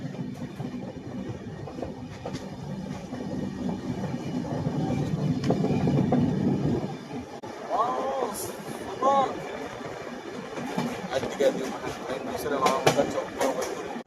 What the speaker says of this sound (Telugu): ఇక్కడ నుంచి వస్తుంటే మన ట్రైన్ ఆ కొండలోకి వెళ్తున్నట్టు అనిపిస్తుంది కదా